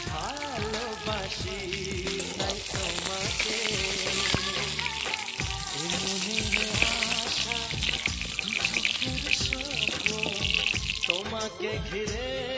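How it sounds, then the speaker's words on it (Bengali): Pointed gourd (potol) slices fry in hot oil in an iron kadai, a steady close sizzle and crackle with occasional scraping of a spatula as the pieces are stirred, no talking. "দেখতেই পাচ্ছেন পটলটা প্রায় ভাজা হয়ে এসছে। আর কিছুক্ষণ নাড়াচাড়া দিয়ে পটলটা তুলে নেব।"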